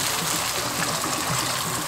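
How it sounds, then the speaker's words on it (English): Water being added to a simmering Gambian palm-oil sauce for a fish, beans and cassava dish, giving a steady, close pouring and trickling hiss that runs through the whole moment with no voices. "I'm just gonna add a little bit of water."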